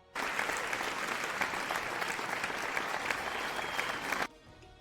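Applause from a crowd, a dense, even roar of clapping that starts abruptly, holds steady for about four seconds, then cuts off sharply into near silence.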